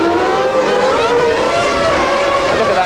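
Formula 1 cars launching at the start of the 1997 Japanese Grand Prix, a loud, steady high-pitched engine scream with rising tones from many cars at once, close and dense, with no speech.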